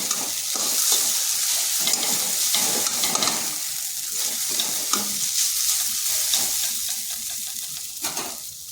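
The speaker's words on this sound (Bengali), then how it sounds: "আর দেখুন আলুটা ভালোভাবে ভাজা হয়ে গেছে" Potatoes fry in a pan with a constant close sizzle while being stirred, scraping and tapping in an irregular rhythm, with no voices over the cooking.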